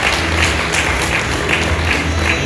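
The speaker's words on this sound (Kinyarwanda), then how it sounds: "Mukomera amashyi, mukomera amashyi." An audience clapping at a ceremony honouring Batwa beauty pageant contestants, steady, fairly loud applause with rhythmic surges throughout.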